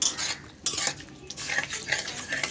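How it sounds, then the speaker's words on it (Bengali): Masoor dal being stirred with a spatula in a pan, giving a steady run of scraping, clinking strokes of metal on cookware without any voices. "কড়ার মধ্যে দিয়ে আমি ভালো করে নাড়াচাড়া করে নেবো আর খুন্তি দিয়ে কিংবা চামচ দিয়ে ভালো করে আমি ঘেঁটে দেবো"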